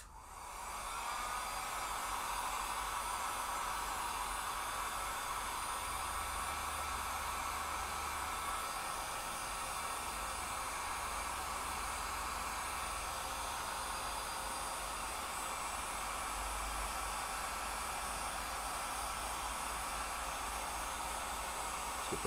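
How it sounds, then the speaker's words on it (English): Heat gun blowing steadily on an ebonized wooden fingerboard for an electric upright bass, a loud continuous broadband rush of hot air that holds without pause and carries no voice. "So, heat gun."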